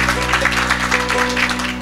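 Brief burst of audience applause at a live meyxana gathering, dense clapping for under two seconds laid over a steady low hum from the sound system.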